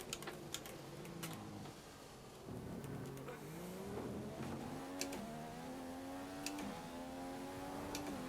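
A Formula 1 racing car engine in the F1 2014 video game, Austrian Grand Prix, revving and accelerating through rising gear tones with shifts and clicks, fairly faint and continuous.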